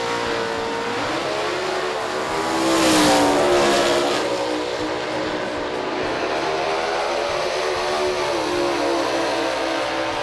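Drag racing cars roar at the Sydney Dragway finals, a loud sustained engine blast swelling to a peak early and then holding a steady high drone, fairly distant, with no voices.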